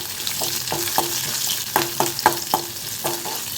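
Garlic fries in hot oil in a kadai with mustard seeds, cumin and curry leaves, giving a close steady sizzle broken by regular clinks of a ladle stirring against the pan, and no voices.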